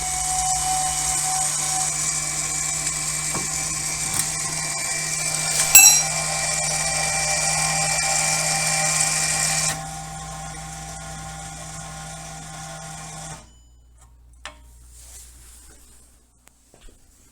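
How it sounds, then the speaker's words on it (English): A car's electronic parking brake retracts during a brake job: a steady whirring electric motor hums for about ten seconds, drops to a quieter whir, then stops, leaving faint clicks. "this is what it sounds like when it's being retracted"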